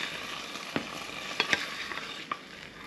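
Sunny side up eggs and ham steak frying in a pan, a quiet steady sizzle broken by a few sharp pops and crackles, no voices.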